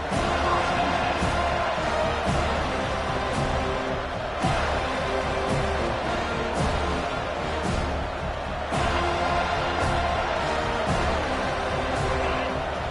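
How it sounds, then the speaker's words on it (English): A packed stadium crowd at a Texas college football game roars continuously and loudly, a dense wall of cheering with scattered sharp thumps and claps throughout. "This crowd, full throat, splitting the eardrums"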